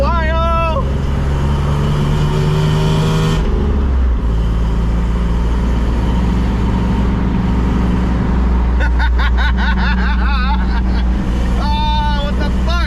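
A 1988 pickup truck on 40-inch tires with dual transfer cases and a manual swap cruises at highway speed, its steady low engine and road drone continuous throughout, with people talking over it at times.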